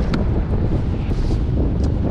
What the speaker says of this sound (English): Ooh, it is windy out here.